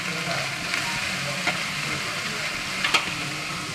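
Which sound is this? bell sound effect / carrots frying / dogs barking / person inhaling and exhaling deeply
carrots frying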